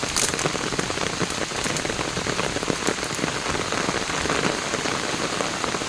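Rain pouring steadily at an abandoned house, a dense continuous patter on surfaces with scattered sharper drops, no voices.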